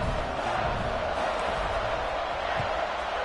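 A dense, steady stadium crowd roar from an online American football video game fills the whole stretch evenly and loudly, with no distinct cheers or breaks.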